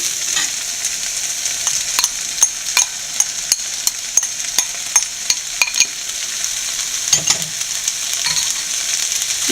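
Potato and chicken filling stirred in a frying pan for bread bonda, a quiet steady sizzle broken by repeated sharp scrapes and knocks of a spoon against the pan, close up with no talk.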